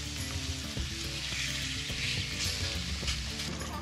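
Food sizzling on a grill at an evening barbecue in the Allgäu, a steady dense crackle and hiss with scattered small pops and clinks, close and continuous with no talk.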